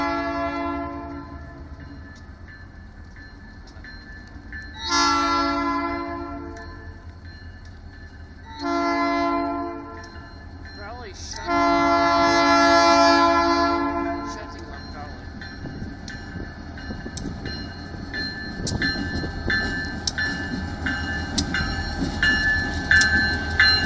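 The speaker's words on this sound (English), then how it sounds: "Spending the entire day taping trains." Short NECR freight train with just two cars passing nearby, sounding several loud horn blasts at about 5, 9 and 11–14 seconds over steady rumbling wheels and engine noise that swells toward the end.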